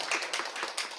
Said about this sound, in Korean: 우리 박수 한번 환영하겠습니다.